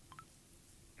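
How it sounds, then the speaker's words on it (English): A couple of short electronic beeps from a phone notification sound close together near the start, faint over a low background hum, then a brief tone at the end. "What is that beeping? Is that your phone?"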